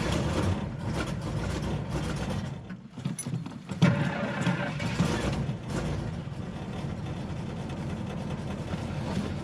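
A 1970 Pontiac engine idling steadily after starting, a deep, even rumble with a brief dip and a revving surge partway through, heard close up.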